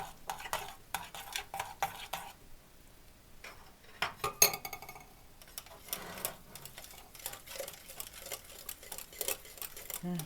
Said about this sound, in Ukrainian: яйця, цукор. І добре перемішую.